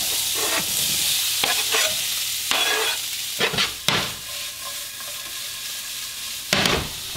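Onion and ground beef or bison browning in a pan, a steady close sizzle with several sharp scraping stirs and clatters throughout, no talking.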